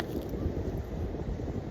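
Wind blowing at a beach, a steady low rumbling roar buffeting the microphone throughout, with no voices heard.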